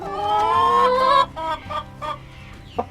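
A backyard chook beside its water dish gives a long drawn-out cluck followed by several short clucks, close and clear, with no voices.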